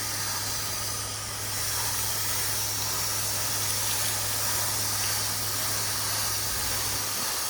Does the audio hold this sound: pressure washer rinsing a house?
yes